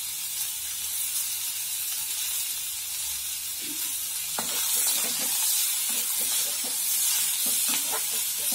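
Ingredients sauté in a pan ahead of the tomato, a broad steady sizzle with a hiss, joined halfway through by busier stirring clatter and scrapes.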